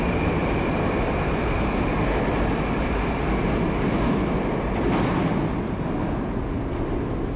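A metro train at a station on the Tashkent Metro in Uzbekistan makes a loud, continuous rumbling roar with rattling and rail noise throughout, and no speech.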